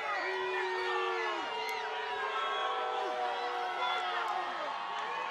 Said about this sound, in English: The crowd is not happy about that.